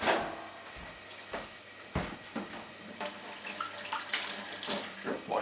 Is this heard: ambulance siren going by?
no